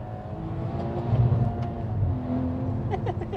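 Tuned Stage 2+ BMW 540i with about 480 bhp, its engine rumbling and revving up and falling back over a few seconds, close and fairly loud.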